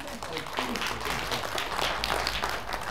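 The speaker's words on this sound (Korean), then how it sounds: "박수 한번 부탁드립니다." An audience at a Korean economics lecture breaks into steady, dense clapping that runs throughout, with a speaker's voice over it.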